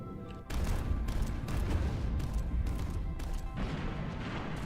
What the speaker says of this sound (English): we are perhaps firing some giga cannons and launching torpedoes